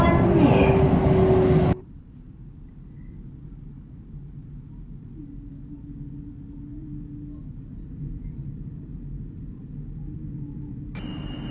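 A Roblox video-game train on a TEL service starts with a short louder burst, then settles into a low, quiet, steady interior rumble.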